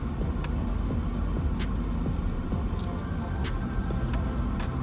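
A Porsche Macan's four-cylinder engine drones steadily in a low, even hum from inside the cabin, with faint clicks scattered over it and no talking.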